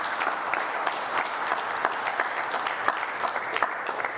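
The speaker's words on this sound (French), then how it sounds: "Et je vous demande, s'il vous plaît, d'applaudir pour lui." Church congregation applauding during an Easter Vigil confirmation, a steady even clapping from many hands that carries on throughout without a break.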